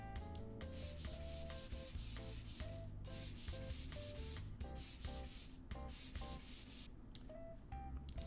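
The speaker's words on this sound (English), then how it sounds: "Oh yeah, we do be sanding." Wood is sanded in the game House Flipper, a loud, continuous rhythmic rubbing and scraping that repeats in quick strokes over steady game music.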